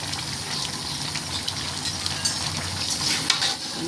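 Whole spices frying in a pan, including cinnamon sticks, cardamom pods, a black cardamom and bay leaf pieces, as a close, steady crackling sizzle with light irregular scraping from stirring and no talking.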